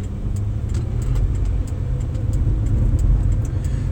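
An old medium-duty truck engine idles steadily, a loud, continuous low rumble close by with a faint regular ticking over it and no talk.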